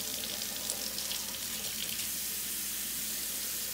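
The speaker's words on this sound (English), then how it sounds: "Always have the water going down the hair shaft" Lukewarm tap water streams steadily over a wig held like a ponytail under the faucet, a close, continuous hissing splash with no talk.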